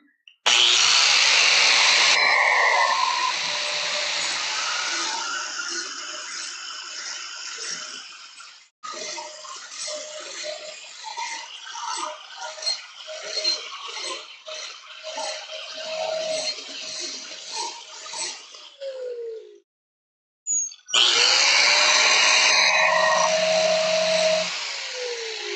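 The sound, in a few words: grinder on a forged blacksmith knife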